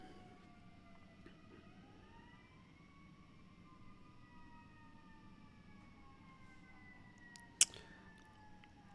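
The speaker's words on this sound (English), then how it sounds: "Got the sirens going just to up the intensity." Wailing emergency sirens sweep up and down in overlapping tones, steady and somewhat distant over a low rumble, with one sharp click near the end.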